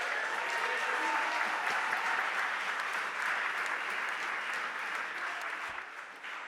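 Sustained applause fills a city council chamber, a dense, even wash of many hands clapping from a crowd, steady for several seconds before easing slightly at the end, with no talk over it.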